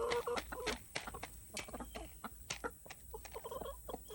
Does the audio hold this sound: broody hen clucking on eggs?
yes